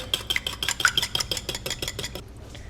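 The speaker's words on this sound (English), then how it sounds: "Whisk that together." An egg and milk being whisked together in a bowl for a peach cobbler scone topping: quick, rhythmic metallic clinks and scrapes of a whisk against the bowl, close and steady, fading out at the end.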